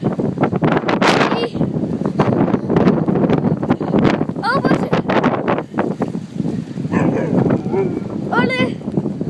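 Strong hurricane wind roars loudly and continuously against the microphone, buffeting throughout, while a voice exclaims over it.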